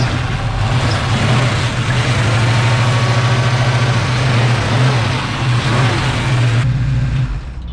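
A classic 1965 Ford Mustang engine turns over and settles into a steady, loud idle with a low rumbling pulse that runs close and continuous, then cuts off near the end.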